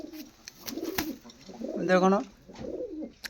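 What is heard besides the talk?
Kaldhoma pigeons cooing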